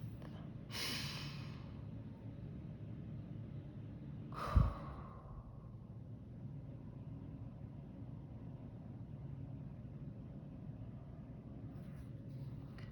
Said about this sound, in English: we're going to start by taking a breath